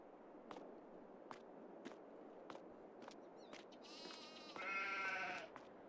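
Sheep bleating in a farming video game barn holding many sheep, several faint short bleats spaced out, then a longer, louder bleat near the end, over a quiet background.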